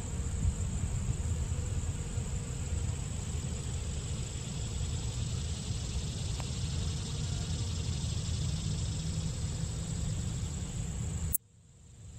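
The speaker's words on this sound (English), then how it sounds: "There's a bee in the thistle." A bee buzzes among thistle flowers at Iroquois Park on a late-summer morning: a steady, close insect drone that holds for about eleven seconds and then cuts off abruptly.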